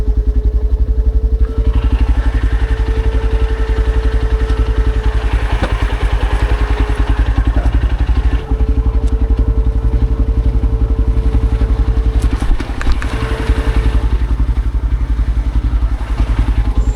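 A Yezdi Adventure motorcycle on an offroad trail, its engine a loud, close, steady throbbing rumble with clattering bursts as it works over rough ground, no talk.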